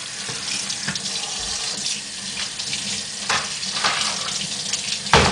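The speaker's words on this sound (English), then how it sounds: "You can just scrub them with a brush" Pickling cucumbers scrubbed under a running kitchen tap, a steady close splash of water into a sink with brief scrubbing and knocking sounds, no talking.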